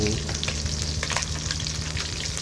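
Mackerel frying in hot oil, a steady close sizzle and crackle with faint spatter running throughout, no talking.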